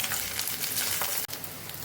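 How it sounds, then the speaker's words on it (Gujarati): Leftover rice snack frying in hot oil, a dense, continuous crackling sizzle at close range, steady throughout with one brief dropout. "હવે આપણે નાસ્તાને તેલની અંદર ઉમેરી દઈશું."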